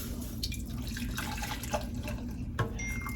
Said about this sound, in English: So we're just going to pour it in here equally.